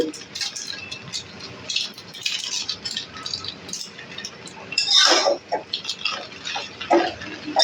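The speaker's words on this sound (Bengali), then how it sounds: "আমি একটু হালকা করে নেড়ে চেড়ে নেব" A spatula lightly stirs vegetable Maggi noodles in a pan, giving soft scrapes, rattles and small clinks in uneven bursts, close by and fairly quiet.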